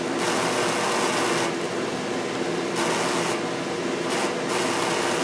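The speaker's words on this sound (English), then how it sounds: "what you're hearing there is the flame, the electric flame, is being blown out momentarily and rekindling" A homemade Tesla coil's electric arc flame sputters as it is blown out and rekindles, a continuous loud buzzing hiss with several brief dropouts and restarts, no talking.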